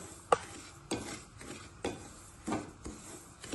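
Semolina (rava) frying in a pan while a spoon stirs it, with sharp periodic scrapes and taps against the pan every half second or so over a quiet background, no talking.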